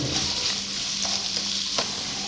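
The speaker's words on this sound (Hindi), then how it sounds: "इन्हें हम हल्का सा गोल्डन करेंगे।" Two medium onions frying in oil in a pan until lightly golden, a steady close sizzle with a few soft stirring scrapes, no voices.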